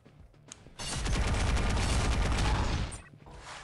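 Sniper and other gunfire in the shooter video game Pixel Gun 3D, heard as a loud, dense burst of rapid shots lasting about two seconds after a single sharp crack, with no talk.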